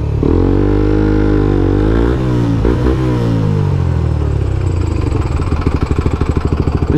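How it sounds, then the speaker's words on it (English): Motorcycle engine running loud and close, its revs sagging and lurching before it stalls out, leaving an uneven, sputtering pulse of the dying motor. "I had the clutch in and it still fucking stalled"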